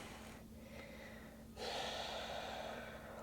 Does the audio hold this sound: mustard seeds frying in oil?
no